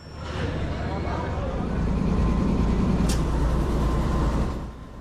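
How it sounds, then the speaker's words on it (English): Tezgam Express train hauled by a General Electric GEU20 Evolution diesel-electric locomotive in Pakistan: a steady loud rumble of the moving train, heavy low droning with a brief high squeal midway. "Hauling us will be a General Electric GEU20 Evolution diesel electric locomotive"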